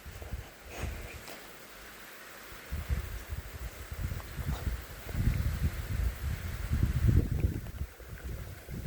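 Storm gusts of wind buffet the microphone in broad, surging roars that build and swell over several seconds, loud and close, with no talking.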